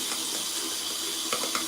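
Water running from a tap to wet shaving soap before a head shave: a steady, close hiss of flowing water with small splashy bumps, no talk.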